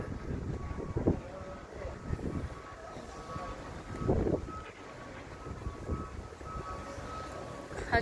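Gusty wind buffets the microphone outdoors in rumbling bursts, with a faint steady tone and distant background noise underneath.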